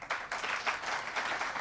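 Audience applause for a doctor being honoured at a ceremony about a civil award recommendation, a dense steady patter of many hands clapping together, moderately loud and sustained without talk.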